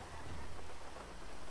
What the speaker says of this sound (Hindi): इतना अच्छा लग रहा है बारिश।